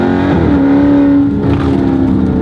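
A 2016 Dodge Charger 392 Scat Pack in sport mode downshifts, its V8 engine blipping and then pulling hard with a loud, rising roar as it accelerates, heard close from inside the car.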